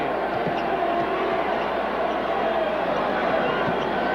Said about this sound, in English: he's hearing the chant of Chief from this capacity crowd